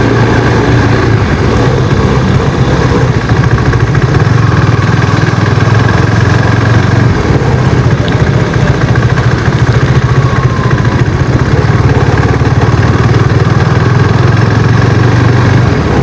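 A KTM RC 390 motorcycle engine idles steadily while warming up, a close, loud and constant low rumble with an even, unbroken drone throughout and no talking.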